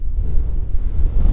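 Wind gusts hard across an exposed Lake District mountain tarn in drizzly weather, a deep, rumbling buffeting roar close to the microphone, swelling and easing unevenly over a short stretch with no voices.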